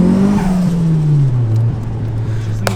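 A turbocharged 4G15 Mitsubishi Lancer engine pulls hard in second gear under load, loud and close. Its tone drops steadily as it goes, with a brief sharp click near the end.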